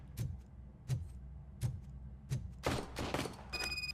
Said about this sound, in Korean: 총소리 났는데?